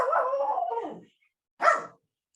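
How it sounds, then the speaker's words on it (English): A dog barks indoors, a drawn-out bark or whine followed by a short sharp bark, close and fairly loud. "I've had my dogs and cats in the background of so many of our videos"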